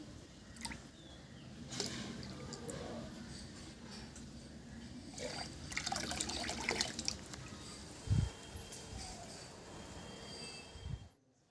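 Rotted mustard oil cake is stirred into 20 liters of water in a container as feed for dragon fruit plants, giving a steady watery churning and scraping with a few louder splashes and no talk.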